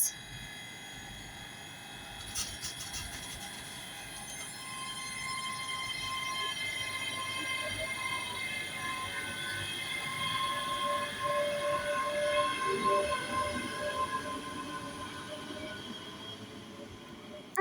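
ScotRail class 385 electric train pulling away from Glasgow Central, its motors rising in a steady whine over about seventeen seconds, with a faint clunk early on.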